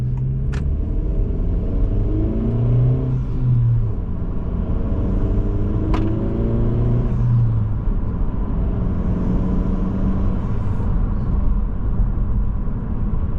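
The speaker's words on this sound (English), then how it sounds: "It does rev match, as you can tell." A 2025 Honda Civic Si driven on back roads, its engine rising and falling in pitch as it rev matches on downshifts, a steady close cabin drone with two sharp clicks partway through.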